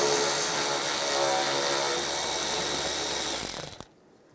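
A power tool with a 7 mm socket backs out a bolt while a 2007–2013 Chevrolet Silverado headlight is replaced, giving a steady close whir for about three and a half seconds before stopping abruptly.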